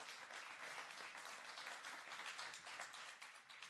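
A conference audience applauds an eight-and-a-half-year-old girl, a dense, sustained patter of many hands that stays fairly quiet and even throughout.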